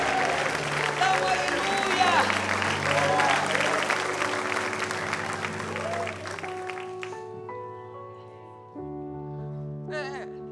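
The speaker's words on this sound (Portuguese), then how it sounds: "Você vai aplaudir da glória a Deus" A church congregation applauds at a Quadrangular service, steady dense clapping with voices and sustained organ or keyboard tones underneath, the clapping thinning out near the end as music carries on.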